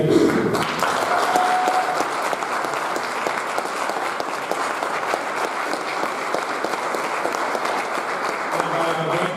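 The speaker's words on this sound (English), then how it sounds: "I want a great round of applause for our high school band" At a 2018 inauguration ceremony, an audience applauds the high school band, giving a sustained, steady round of clapping that starts after a brief pause and continues evenly to the end, with some voices mixed in.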